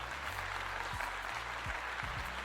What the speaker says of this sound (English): I gotta give her a clap.